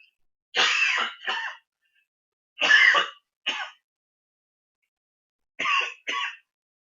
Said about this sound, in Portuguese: estou com a garganta um pouco ruim, por isso que eu estou tossindo